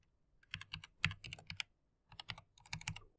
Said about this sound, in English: You can copy whatever I'm typing.